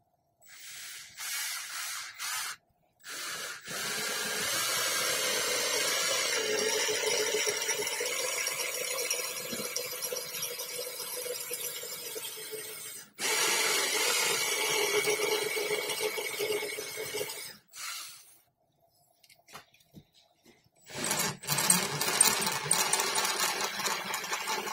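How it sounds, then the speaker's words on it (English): A small hand drill bores into the leg of a resin figure, giving a steady whirring hiss in long runs broken by short pauses and restarts, close and fairly loud with no talk. "So I'm going to drill a hole in the center of this leg right here."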